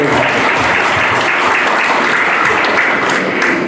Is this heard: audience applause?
yes